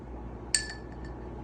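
A glass object gives a single bright clink as it is handled, with a short ringing tail fading over a quiet room background.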